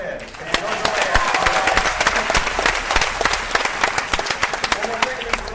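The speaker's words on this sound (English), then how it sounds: "you can applaud that. Go ahead." Studio audience at a game-show taping applauds steadily, a dense wash of clapping with sharp individual claps standing out, sustained and fairly loud throughout.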